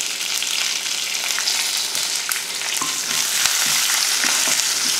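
Dried red chili, curry leaves and asafoetida fry in hot oil for peanut rice, a loud, steady crackling sizzle close up with small pops, continuous throughout.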